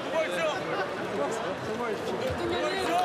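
A crowd cheers and calls out for South Korean President Moon Jae-in as he departs for inter-Korean talks, a dense, steady roar of voices and chatter at close range throughout.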